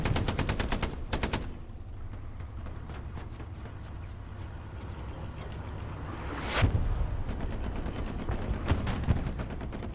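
Machine gun fire in the World War II shooter Hell Let Loose during an armored convoy ambush: a rapid burst opens the clip, followed by scattered single shots and a louder blast, with no talking.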